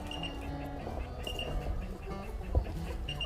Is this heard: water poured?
no